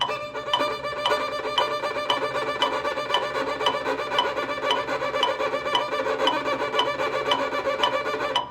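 A rough, steady scraping rasp of a violin bow dragged across a string, sustained and fairly loud with a grainy texture throughout.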